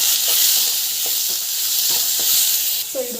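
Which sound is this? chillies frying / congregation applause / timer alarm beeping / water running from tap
chillies frying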